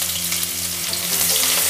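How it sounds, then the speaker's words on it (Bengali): Chopped onion with cumin seeds frying in hot mustard oil for an egg masala curry, a steady close sizzle that runs unbroken throughout. "1 টেবিল চামচ পেঁয়াজ কুচি দিয়ে দিলাম"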